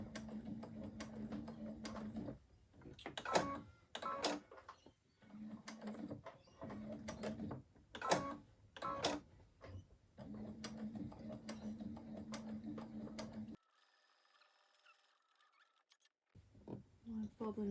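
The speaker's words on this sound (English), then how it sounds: "My bobbin is sounding a bit funny" Domestic Brother sewing machine top stitching with a bobbin that sounds off, short mechanical whirring bursts separated by pauses, with a voice speaking between and over the runs.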